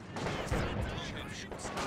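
Gunfire in Company of Heroes 2 during a 1v1 match, with rifle and infantry weapon shots crackling densely and continuously, mixed with battle noise and faint voice lines underneath.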